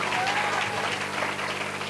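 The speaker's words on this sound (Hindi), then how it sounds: "ओकर लिए जोरदार ताली हो जाएगा" Faint, continuous applause from a seated audience at a village devotional gathering, many hands clapping at a distance with murmuring voices mixed in.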